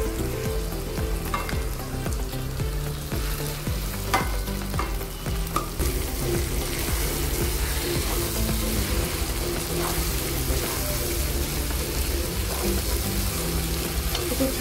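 A ground sweet corn mixture frying in a pan for a festive chivda snack, loud steady close sizzling and crackling with occasional stirring scrapes throughout.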